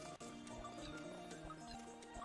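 Horse sounds from the video game To the Moon, with faint snorts and hoof clops over a steady game soundscape, quiet throughout.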